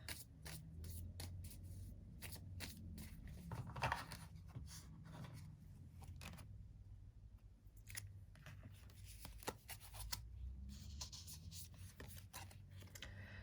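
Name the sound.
tarot cards being handled and drawn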